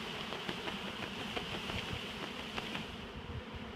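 A large swarm of honey bees, shaken down in front of a hive entrance, fills the air with a dense, steady buzzing hum at moderate distance, with no voices.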